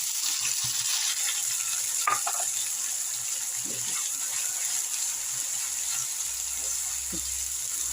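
Onion, garlic and chili paste sizzle in a hot pan for an aloo gobhi curry, a steady bright hiss broken by a few light scrapes and clicks of stirring.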